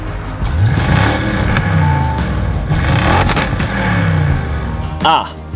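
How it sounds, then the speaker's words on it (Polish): An Audi RS6 with 560 horsepower accelerates hard on snow and ice, its engine note rising and falling through gear changes, loud and close, with a brief sharp whine near the end. "To musi być RS6 o mocy 560 koni mechanicznych."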